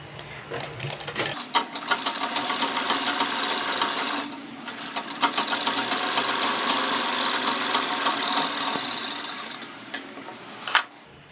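Sewing machine stitching a seam on a blouse, a steady close mechanical whirring run that stops briefly around four seconds and resumes, with no talking.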